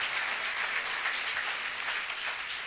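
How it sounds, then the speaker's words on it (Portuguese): A church congregation applauds in praise, a steady wash of many hands clapping together, fairly loud and continuous, with no talk over it. "Pode dar uma salva de palmas ao Senhor."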